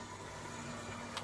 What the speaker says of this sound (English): Excuse my little die cutting machine.